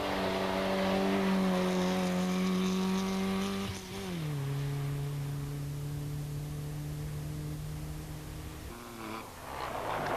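Rally car number 37, driven by Heikki Vehmas and Harri Ekholm, on a stage of the 1992 Finnish junior championship rally at Somero: a loud, sustained engine note that holds steady, drops with a gear change, then fades as the car moves on.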